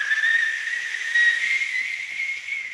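A thin stream of air whistles steadily, a sustained high, breathy tone with hiss around it that holds unbroken from start to finish.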